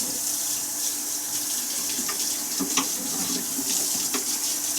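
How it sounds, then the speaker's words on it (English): Water runs steadily from a sink tap as a Ninja Foodi part is rinsed beneath it. The flow is a constant close hiss, with small splashes and clatters as the part moves in the stream. "I'm going to rinse this thing off."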